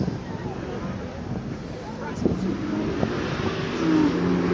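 A Porsche 911 Carrera S drives past at a supercar event, its engine note rising steadily under wind noise, with a person speaking over it.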